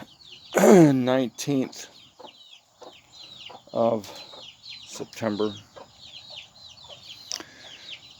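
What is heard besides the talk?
chickens clucking in a chicken coop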